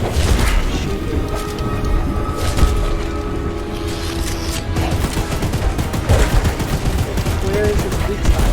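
Repeated gunfire in the horror game Choo Choo Charles, aimed at the monstrous train: a steady run of loud, dense shots with heavy booms, continuing throughout with some talking mixed in.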